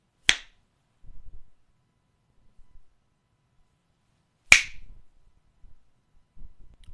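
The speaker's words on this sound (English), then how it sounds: "I have to snap my fingers to make it visible." Two sharp, bright finger snaps spaced about four seconds apart, each crisp and close, with faint low rustling and soft handling noises in the quiet between them.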